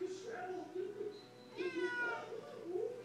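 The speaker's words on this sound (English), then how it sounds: "Lane, come get your cat" A cat meows repeatedly at close range, drawn-out calls with a caterwauling edge, while a person talks over it.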